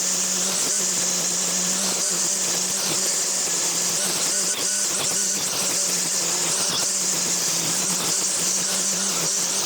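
A Makita 40V XGT 1kW UR007G line trimmer cuts through thick, dense growth with a steady high motor whine and a low hum, dipping briefly now and then under load.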